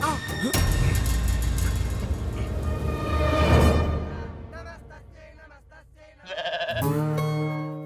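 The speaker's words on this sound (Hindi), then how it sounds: "अरे बकरा कहाँ गया?" A goat bleats in a comedy film scene, loud wavering cries in bursts with a pause of near silence before another strong bleat, mixed with background sound and voices.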